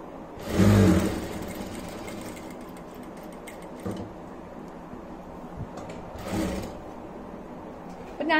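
A sewing machine stitching a zip onto fabric, a close whirring burst of stitching at the start, then a quieter stretch with small clicks, and a second shorter burst near the end.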